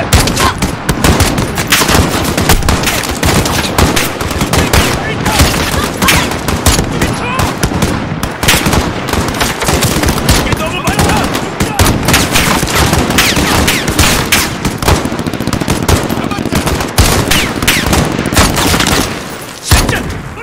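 Dense, continuous gunfire from a Call of Duty Modern Warfare reboot campaign battle, loud and nearly unbroken for the whole stretch, with overlapping bursts, booms and scattered shouted commands underneath.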